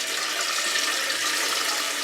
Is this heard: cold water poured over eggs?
yes